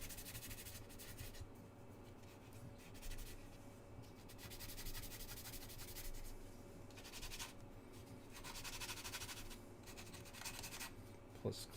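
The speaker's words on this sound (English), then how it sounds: "I'm just going to go over it all with some sandpaper" Sandpaper rubbing over a plastic Airfix Hawk model kit, a quiet close-up scratchy swishing in repeated strokes with short pauses between them.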